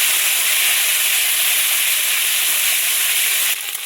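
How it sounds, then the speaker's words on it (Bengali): A ground spice paste fries in a hot pan for a taro curry, a loud, steady, close sizzle that hisses continuously and then drops off slightly near the end. "তারপরে দেব এই যে বাটা মশলা, দিয়ে ভালো করে কষিয়ে নেব।"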